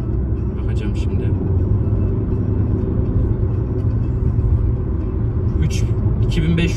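Inside a Fiat Egea Cross SW 1.5 T4 hybrid on the road, a steady low engine drone holds around 2500 rpm, with constant cabin rumble and road noise beneath people talking.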